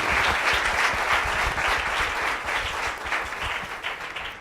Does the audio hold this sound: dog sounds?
no